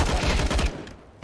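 Gunfire in a Counter-Strike match on the Vertigo map, a dense burst of rapid shots packed into the first half-second and then quickly trailing off into quieter game ambience.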